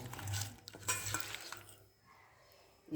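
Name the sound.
fish added to a pan with chili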